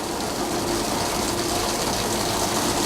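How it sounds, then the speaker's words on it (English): Heavy rain in a thunderstorm in Playa del Carmen, a loud, dense, continuous roar of pouring water with no distinct thunderclap, heard close by without voices. "Thunderstorm and rain in Playa del Carmen."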